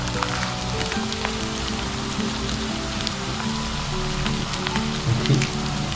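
Potato pancake frying in hot oil in a pan, seasoned with salt and thirteen-spice powder; a steady, close crackle and sizzle runs evenly for the whole stretch with no talking.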